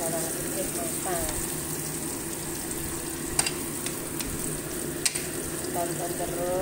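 Green chili sambal with garlic frying in a pan, giving a steady close sizzle throughout with a few sharp clinks of a utensil stirring, and no talking over it.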